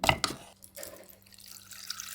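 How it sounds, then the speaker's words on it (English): Water splashes briefly as it is poured into a cooking pot, then settles into a steady trickle and faint running sound, close by and without any talking. "Add an appropriate amount of water to the pot."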